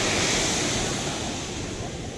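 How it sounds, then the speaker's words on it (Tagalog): Big ocean waves roll at the Baler surfing area in Aurora, a loud, close rush of surf with wind noise that gradually eases over a couple of seconds. "dito tayo ngayon sa maalon na dagat, sa Baler surfing area. Napakalaki ng alon."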